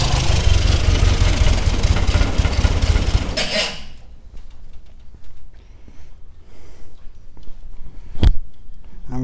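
The engine of a 1963 Sprite runs loud and close with a rough, uneven rumble and a loose-sounding funky noise. After a few seconds it drops off sharply, leaving a quieter idle with scattered knocks and one sharp clank.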